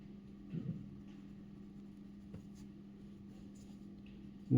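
Pen or marker scratches faintly and steadily on a surface while an augmented matrix is written out by hand for a Gauss elimination lesson, with a constant low hum underneath and no talk.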